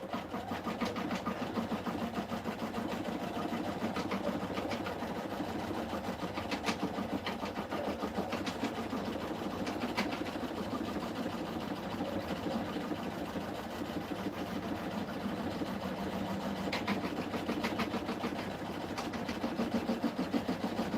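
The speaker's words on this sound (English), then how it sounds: "We're just simply stitching down our fabric." A home sewing machine runs continuously, stitching down fabric in a steady, fast mechanical whir with rhythmic needle clatter that holds at an even level throughout.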